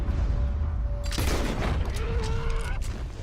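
Gunfire while hunting a legendary ram in the video game Red Dead Redemption 2: a couple of sharp shots crack out amid a muffled outdoor ambience, with a short burst of loud reports near the middle.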